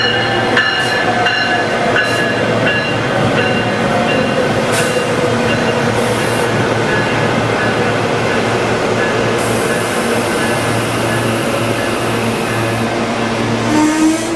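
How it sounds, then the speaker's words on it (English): A Denver RTD commuter rail train arriving from the airport, heading to Union Station, rumbles past with steady loud rail noise, a low hum and squealing wheel tones throughout, with no talk. "It's the train coming from the airport."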